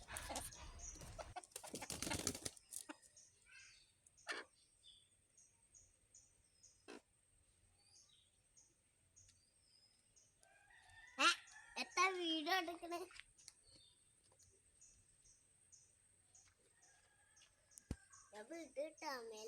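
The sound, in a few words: chickens in a hen coop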